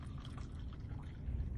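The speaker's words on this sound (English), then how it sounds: "Let's see how it pours." Liquid Death melon-flavored sparkling water being poured, a steady close fizzing splash with low gurgling that swells slightly near the end, with no talking.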